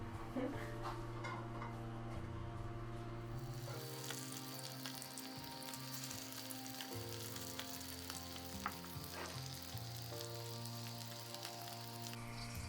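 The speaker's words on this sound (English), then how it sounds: "Okay, so our Kohlrouladen has been browning nicely." German stuffed cabbage rolls (Kohlrouladen) browning in butter in a pan, a steady crackling sizzle with occasional pops, fairly faint and continuous, with music playing underneath.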